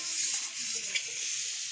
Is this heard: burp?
no